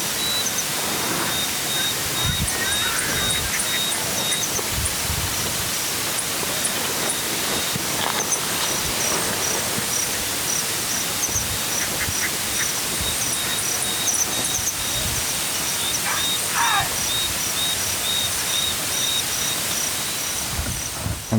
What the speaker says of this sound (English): And there were these thousands of little crickets, which like 100 milliseconds short sounds,